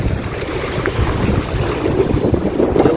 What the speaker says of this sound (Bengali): ঢেউগুলো বিশাল বিশাল ঢেউ